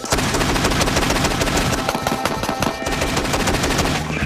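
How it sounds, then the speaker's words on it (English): A fully automatic combat shotgun fires a rapid, unbroken burst of booming shots, very loud and close throughout. "A single pull on the trigger fires 1 round. Hold it in, and I go fully automatic."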